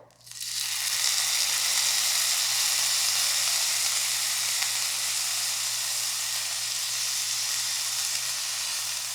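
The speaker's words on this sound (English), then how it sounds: "I'm gonna put a little oil in this skillet and we're gonna let it heat." Oil heating in a skillet on the stove, a steady loud sizzle and hiss that rises quickly and holds evenly throughout.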